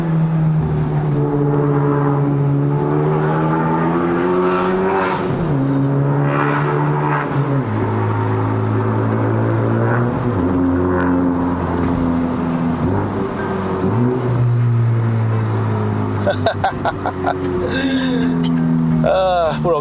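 Steady loud engine drone and exhaust from a 353 whp Honda Civic Type R FK8 climbing a mountain road in Malaysia, pitch rising and falling through gear changes over the full stretch.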